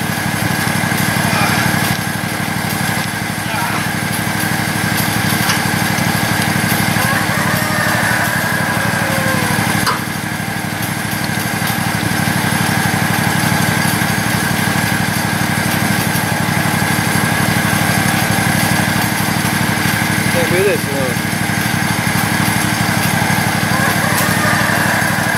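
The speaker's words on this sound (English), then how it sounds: "That tractor's powerful though, I'm digging deep." A tractor engine runs steadily and loud while digging, a constant droning hum that holds through the whole stretch with only slight shifts in load.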